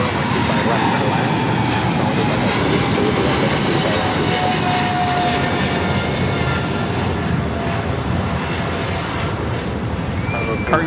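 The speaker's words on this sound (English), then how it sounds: "Cargo King 230 taking off to Shenzhen on 777 freighter." A Boeing 777 freighter takes off from LAX, its engines producing a loud, steady roar that holds throughout, with broadband rumble and a faint high whine riding on top.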